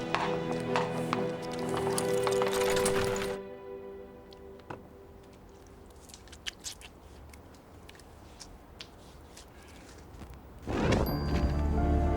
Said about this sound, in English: Lead the horses, Charles.